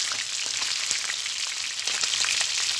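Close, steady sizzling of trout frying in hot oil, a constant bright hiss with occasional small pops and crackles.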